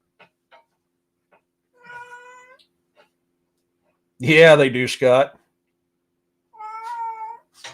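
A cat meows loudly at close range, with a short cry followed later by a longer, drawn-out one. Someone talks briefly between the meows.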